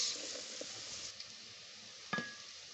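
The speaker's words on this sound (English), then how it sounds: "I'm going to cook this for 45 seconds until the garlic is nice and fragrant" Garlic cooking in a pan while being stirred, giving a soft, steady sizzle with light scraping, followed by a sharper utensil clink near the end.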